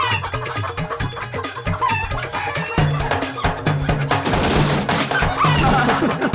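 A rooster clucks in short bursts while being chased, the squawks mixed with busy background sounds and rhythmic percussive noise throughout.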